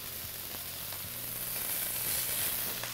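Meatballs browning in a hot pan give a steady close sizzle and crackle, with faint scrapes as they are turned and no one talking.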